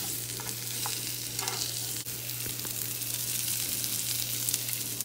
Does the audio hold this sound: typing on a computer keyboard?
no